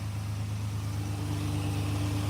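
A 1986 Chevy Silverado with a TBI engine idling up on its own, a steady low mechanical hum with a smooth even drone close by and no other sounds.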